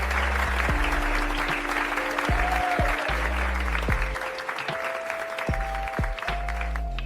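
Office employees break into steady, continuous applause that carries from start to finish beneath a layer of synthesized musical tones.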